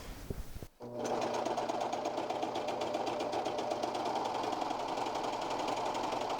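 A Janome Airthread 2000D serger starts after a short pause and then runs continuously, giving a loud, close, rapid mechanical whir and clatter without a break.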